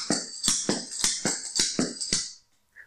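Clogging shoe taps beat out a syncopated cinco toe run, about a dozen crisp, close, bright strikes in uneven pairs over two seconds, then stopping; no talk.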